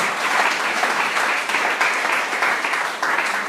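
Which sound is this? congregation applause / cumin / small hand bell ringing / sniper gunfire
congregation applause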